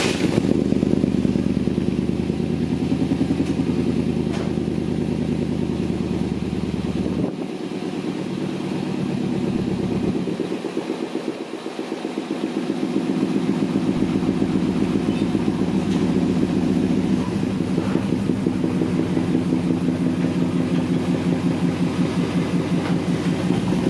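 Ford Mustang project truck engine running steadily, a loud rough rumble with a dip near the middle before settling back to a steady idle, no talking.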